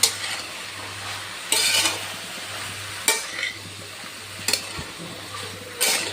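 Bhogi mixed vegetable curry being stirred in a pan, soft sizzling under a low hum, punctuated every second or so by a sharp scrape or clatter of the spoon against metal.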